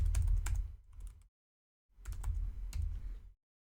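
Quick bursts of keystrokes on a computer keyboard while entering text into an app's input fields, close and clear, in two clusters of clicking separated by a brief pause.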